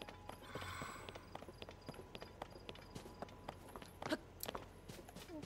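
Horse hooves clip-clop in The Legend of Zelda: Tears of the Kingdom, a quiet, steady walking rhythm of distinct taps with a few sharper clicks near the end.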